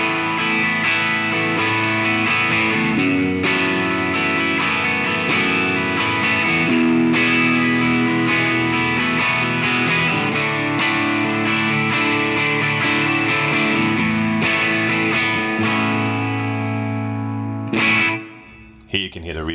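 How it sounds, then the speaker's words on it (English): An electric guitar plays through a distorted effects chain in Fender Studio with a small hall reverb added. The loud chords are sustained throughout, and then the reverb tail rings out as the playing stops near the end. "Here you can hear the reverb at the end."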